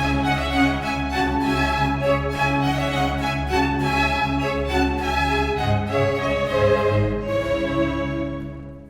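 A Vivaldi Four Seasons ritornello played in a minor key by a full string ensemble, sustained and loud throughout before easing off at the very end.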